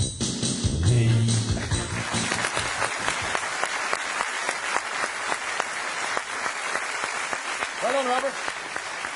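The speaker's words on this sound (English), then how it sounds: "I was really clapping for Andy that time and not myself." Studio audience breaks into loud sustained applause that gradually thins into scattered claps, with a voice speaking briefly over it near the start and end.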